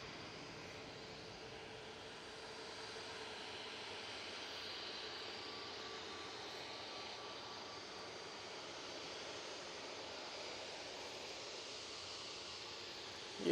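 Airbus A320neo airliner with CFM LEAP-1A engines, bound for Etihad at Manchester Airport, gives a steady, broad engine roar that holds evenly throughout, fairly distant and with no talk over it.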